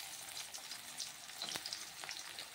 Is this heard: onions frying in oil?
yes